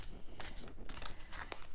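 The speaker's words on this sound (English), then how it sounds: "They are a bit big, you know, for me to shuffle." A deck of large, bright oracle cards being shuffled by hand, quiet close papery riffling and crinkling with several short brushing bursts, heard alone.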